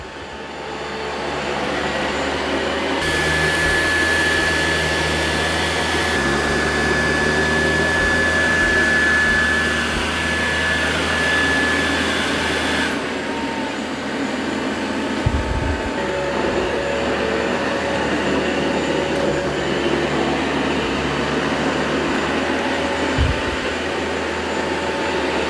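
A robot vacuum, an iRobot Roomba 675 or Dyson 360 Vis Nav, runs with a steady, fairly loud motor whir and brush hum that shifts slightly in pitch partway through, alone without talk.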